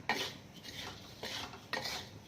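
A utensil stirs chili flakes with sugar and salt in a pan over very low heat, giving a few close scraping, clinking strokes with short pauses between them and no talk.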